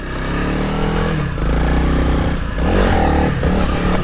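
A Honda CRF300L dual-sport motorcycle with upgraded gearing and Kenda Trakmaster tires creeps along below 5 mph, its single-cylinder engine a loud, close, steady low thrum with slight rises in revs and some wind rumble.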